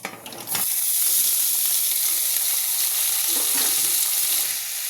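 Cauliflower, peas, potato, carrot and beans fry in a tempering of cumin, garam masala and bay leaf for mung dal, a loud steady sizzle with bright hiss that starts abruptly after a brief quiet moment and continues close by without talk.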